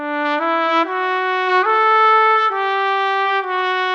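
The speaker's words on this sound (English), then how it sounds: "So if you have it on close, the trumpet sounds like this." Sampled virtual trumpet from a brass library with the close microphone position, playing a loud, sustained legato line of stepped notes, dry and upfront with no talking.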